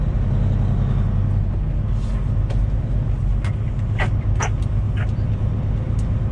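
A flatbed semi truck drives along the road, a steady, close low engine and road rumble with a few brief higher clicks and rattles over it, and no clear speech.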